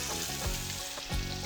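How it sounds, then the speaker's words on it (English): Steaks sizzle loudly in a hot pan, a steady crackling hiss with a few brief bursts as the meat shifts. "Yeah, that's the sizzle that we want right there."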